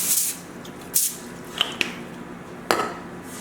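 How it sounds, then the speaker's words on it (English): Cooking spray hisses onto a pan in a home kitchen in several short bursts, quiet and close, with faint clinks of cookware between them. "Take your cooking spray."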